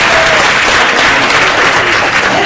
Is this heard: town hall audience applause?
yes